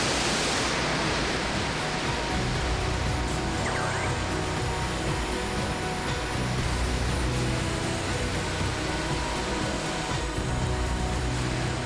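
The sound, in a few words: waterfall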